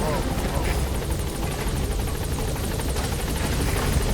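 A loud, steady helicopter rotor chop in Metal Gear Solid V fills the whole stretch as the helicopter arrives, close and continuous, with voices faintly mixed underneath.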